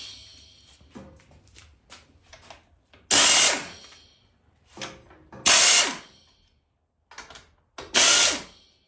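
Three loud bursts of an impact wrench with a 10 mm socket, each about a second long, working on a 2003 Husky, with quieter clicks and handling noises in the pauses between them.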